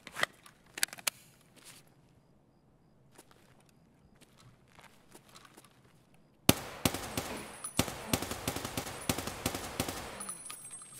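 Gunfire from a shooter video game set in a mall: a few sharp isolated shots and soft movement early on, then a dense burst of rapid, loud shots near the end.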